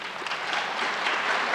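Audience applause, a brief steady wash of many hands clapping at even loudness with no voices over it.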